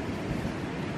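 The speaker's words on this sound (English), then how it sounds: "hopefully you can't hear the wind" Steady, rumbling wind buffeting a microphone, a continuous low roar with no voices, loud and unbroken throughout.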